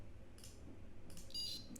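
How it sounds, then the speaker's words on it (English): Two faint, high-pitched electronic beeps sound in quick succession over a quiet hiss. "now we should be able to hear an audible beep"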